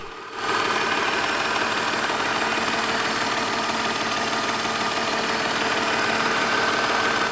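Steady idle from the engine of a 2002 BMW 520i E39, a level, unbroken hum that starts after a brief quiet moment and continues close-up with no voices.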